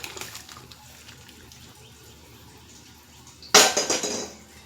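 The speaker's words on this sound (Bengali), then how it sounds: "এবার আমি এই বাটিতে ঢেলে নেব।" Cooked magur fish curry with papaya and potato is poured from a pot into a bowl, a short loud burst of splashing liquid and clinking near the end after a quiet stretch.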